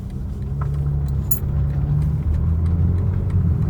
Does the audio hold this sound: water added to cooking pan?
no